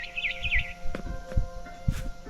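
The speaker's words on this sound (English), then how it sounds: "Then I heard chirping outside my window." Bird chirps in a quick warbling run, then a few scattered tweets over low rumbling game ambience in the video game What Remains of Edith Finch.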